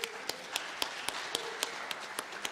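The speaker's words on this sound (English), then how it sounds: "The applause is for you all." In a Unity of Nashville church service, hands clap at a slow, steady pace, each clap a crisp separate snap about every quarter second, moderately quiet with a soft room hum underneath.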